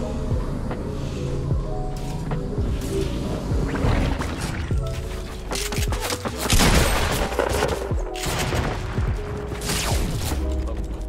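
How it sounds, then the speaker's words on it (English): Gunfire in Fortnite: bursts of rapid shots and heavier booms crack out repeatedly across the whole stretch, loud and close, with little talk over them. "I heard some gunshots."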